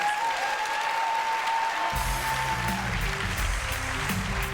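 An audience at a panel discussion on business and a just transition bursts into applause midway, dense clapping rising after a brief talking tone and continuing to the end.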